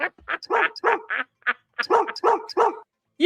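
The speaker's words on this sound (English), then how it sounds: "You're a good dog, Buster." A dog barks repeatedly in quick, uneven bursts, two clusters of sharp close barks separated by a brief pause, loud and clear with no talking over them.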